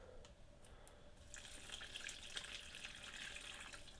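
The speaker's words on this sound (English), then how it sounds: "This planter is a little bit larger, so we're going to put the rest of our water in there" Water from a pitcher pours into a larger indoor houseplant planter, a soft steady splashing trickle that swells after a quiet start and keeps running, fairly faint and close.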